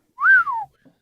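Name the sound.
wolf whistle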